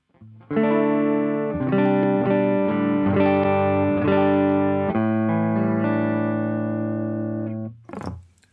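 Electric guitar played through a Meris Ottobit Jr bit-crusher pedal, a run of sustained notes and chords changing every half-second or so, moderately loud and alone, ending with a brief scrape.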